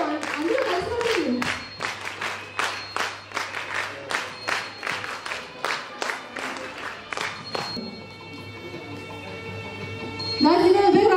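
An audience at a National Youth Day 2024 event claps in rhythmic unison, a steady series of loud, evenly spaced group claps building together, with a voice speaking over the start and crowd noise rising at the end.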